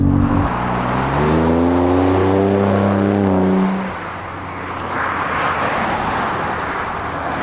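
A 2017 Ford Raptor truck pushed hard through tight turns, its engine note rising in a steady harmonic whine for a few seconds, then easing off into a lower rumble with road and tyre noise, no voices.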